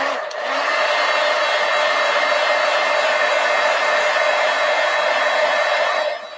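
A hair dryer drying artwork, blowing with a loud, steady whine and airy hiss that starts abruptly, holds constant, and tapers slightly at the very end.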